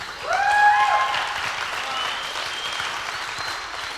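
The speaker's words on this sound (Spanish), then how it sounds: "Un aplauso para Cacha." An audience applauds for a volunteer at a church event, a burst of clapping swelling early and then settling into steadier applause, with voices calling out over it.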